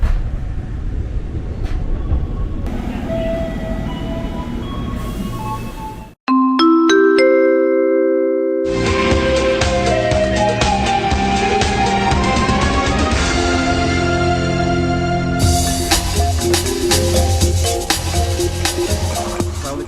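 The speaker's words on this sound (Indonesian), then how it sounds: "ini ada KRL JRS 20575 komuteran tujuan Angke atau Kampung Bandan berikut" KRL JRS commuter electric train bound for Angke or Kampung Bandan pulling into Klender Baru station, Jakarta line, with a loud steady rumble, rising and falling motor whine and squealing brake tones, plus a brief drop in level.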